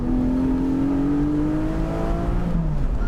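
The naturally aspirated 4.0-litre engine of a Porsche 718 Boxster GTS revs up in one smooth, steadily rising pull, heard from inside the car while driving through bends over constant road and wind noise.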